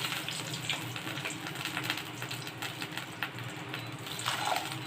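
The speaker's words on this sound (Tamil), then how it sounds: "200 ml அளவு தண்ணி சேர்த்துக்கிறேன்." Water pours into a cooking pan of fried garlic while drumstick leaves stir-fry is being made, a steady, fairly quiet splashing and hiss that continues throughout with no talk.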